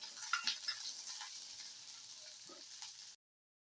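Onion crackles as it roasts in a kadhai, a soft, close sizzle with a few brighter pops early on that fades a little before cutting off abruptly.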